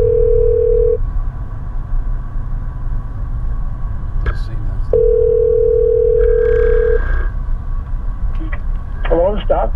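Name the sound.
telephone dial tone and ringing of an outgoing call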